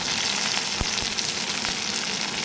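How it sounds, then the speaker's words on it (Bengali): Lightly browned onion, chopped tomato and slit green chilli fry in a pan as the filling for stuffed bitter gourd, giving a dense, steady sizzle close by, broken by a few sharp clacks of stirring. "পেঁয়াজটা হালকাভাবে ভাজা হয়ে গেছে, টমেটো কুচি দিয়ে দিচ্ছি, আর চেরা কাঁচা লঙ্কা"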